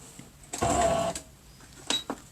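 A sewing machine topstitches a seam on a simple zippered tote bag, a short close burst of rapid stitching followed by a brief second whir amid quiet handling noise.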